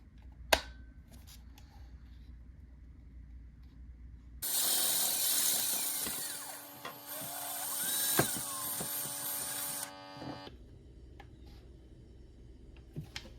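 A drill bores into a wall with the xCool laser level's wall-suction dust collection attached, giving a loud, steady high whine for about six seconds between quiet handling clicks, with no talking.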